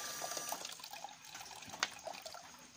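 Water from a coin-operated peso water dispenser machine trickles and splashes faintly, with a few small drips and a brief clink in a quiet setting.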